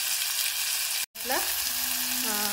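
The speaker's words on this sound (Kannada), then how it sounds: "ಉಳ್ಳಾಗಡ್ಡಿ ಕರಿಬೇವು ಎಲ್ಲ ಫ್ರೈ ಆದಮೇಲೆ ಇದಕ್ಕೆ ಟೊಮೆಟೊ ಹಣ್ಣು ಹಾಕೊಂಡೀನಿ ರೀ" Onion, curry leaves and tomato frying in oil, a dense, continuous hiss of sizzling that cuts out for an instant, then resumes with a faint tonal squeal or hum running under it.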